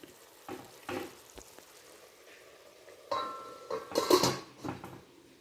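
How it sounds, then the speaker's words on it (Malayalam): Tomato curry being stirred in a pan, soft intermittent scraping and clinks of a spoon against the pan over a faint simmer, growing busier toward the end. "നന്നായിട്ടൊന്ന് ഇളക്കിയിട്ടിട്ട് പിന്നെയും കുറച്ച് നേരം കൂടി ഒന്ന് മൂടി വെച്ച് വേവിക്കാം."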